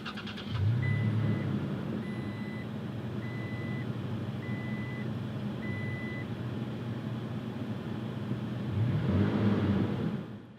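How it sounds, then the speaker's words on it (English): A 2019 Toyota Tacoma TRD Pro, a custom off-road build, starts by push button, its engine catching with a burst and settling into a steady idle, with a repeating chime pulsing over it before the revs swell again near the end. "You just put your foot on the brake and hold it and push this button to start it."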